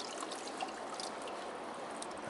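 Steady water trickle rinsing a farmed deer's injured, torn foot pad, a faint and continuous hissing flow with no voices.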